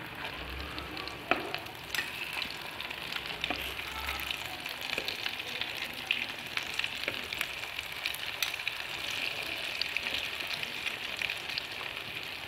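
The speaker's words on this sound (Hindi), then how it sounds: "ये हमने फ्राई करने के लिए डाल दिया कबाब को" Mixed vegetable kebabs frying in a pan of oil, a steady bright sizzle crackling continuously at moderate loudness, with faint pops and a low hum early on.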